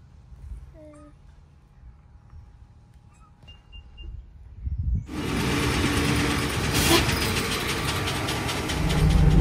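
A skid steer engine starts up partway through and then runs at a steady, loud, rumbling idle close by, after a quiet stretch with faint outdoor sounds.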